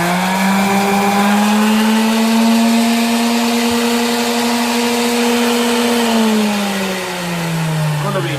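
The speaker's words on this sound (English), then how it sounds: "I don't use this thing a lot, but for my little electric sander." A small electric orbital sander runs steadily and loudly on its own, a constant motor whine with a slight dip in pitch near the end as it slows under load.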